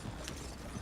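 Horse hooves clop in the video game Red Dead Redemption 2, a brief, quiet patter of a few steps.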